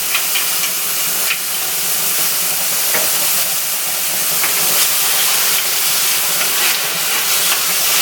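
Onion, scotch bonnet pepper, thyme and garlic frying in a pan for Jamaican beef liver, a steady loud sizzle and hiss that runs without a break and carries faint stirring clicks.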